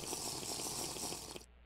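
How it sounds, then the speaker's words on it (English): Water gurgles and splashes steadily for over a second as a Minecraft character drinks from a water source, then cuts off abruptly. "Let me get a drink of water."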